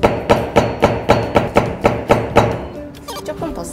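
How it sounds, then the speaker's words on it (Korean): Hammer blows in a craft workshop, driving a marked point into a piece being worked: about ten sharp, evenly spaced strikes ring out close and loud, then taper into quieter scattered taps. "여기 망치로 쳐주시면 돼요"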